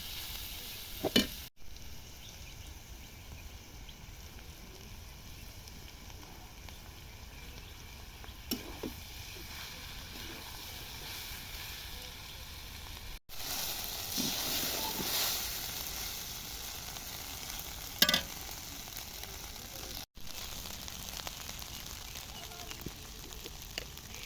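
Cooked rice stir-fried with already fried vegetables for fried rice: a soft, continuous sizzle with scattered utensil clinks, swelling somewhat louder midway through.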